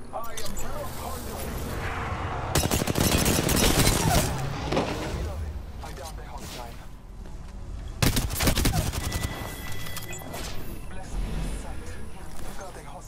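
Gunfire in the video game Apex Legends on Kings Canyon at night, bursts of rapid automatic shots in two dense clusters with scattered single shots between, fairly close and loud, with a player talking over parts of it.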